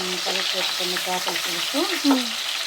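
Nellore-style fish curry (chepala pulusu) mixture hits a hot pan and sizzles steadily, a loud continuous hiss running beneath a tonal melodic background.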